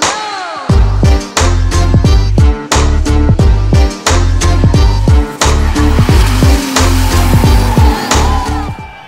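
BMW E82 race cars launch off the line and accelerate hard, the loud close engine roar climbing repeatedly and breaking at each rapid upshift in a steady rhythm of gear changes.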